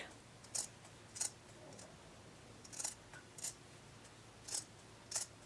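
Scissors trim excess seam fabric in about eight crisp, quiet snips that come in pairs and single cuts, with no other sound.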